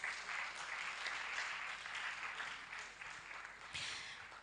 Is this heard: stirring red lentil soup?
no